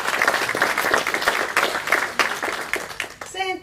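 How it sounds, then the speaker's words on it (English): Audience applause at a youth sports awards night, a dense, steady wash of clapping from a hall crowd lasting throughout, with a brief tonal sound at the very end. "So please give Shannon a round of applause."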